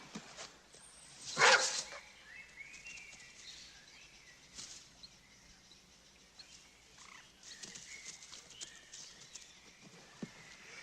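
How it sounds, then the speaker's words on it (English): A dog barks loose in a wood: one sharp bark stands out early, followed by faint scattered woodland sounds at a distance, with no talking. "There's a dog loose in the wood."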